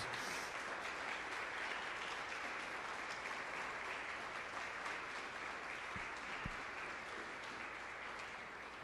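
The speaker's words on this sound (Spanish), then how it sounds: "Podemos darle un aplauso a Cristo Jesús." A church congregation applauds during a Sunday service, a dense, continuous wash of clapping that sounds faint and somewhat distant and holds steady for several seconds.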